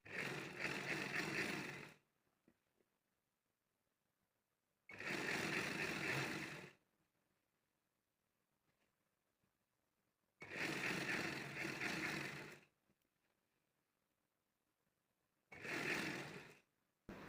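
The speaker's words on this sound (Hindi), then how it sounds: "तो यहाँ से अब मैं सिलाई स्टार्ट करती हूँ।" A sewing machine stitching pleats and a belt onto a salwar runs in four separate loud bursts of a few seconds each, with quiet gaps between them.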